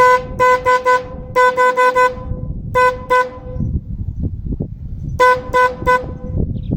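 Several loud, bright car horn blasts powered by a 12.9-volt battery, in short bursts and clusters, separated by stretches of low background rumble.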